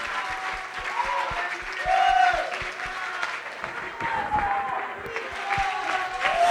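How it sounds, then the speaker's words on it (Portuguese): Youth gathering at a church event breaking into clapping, with regular hand claps over a crowd murmur and faint shouts, while a voice carries on underneath. "Você pode dar uma salva de palmas"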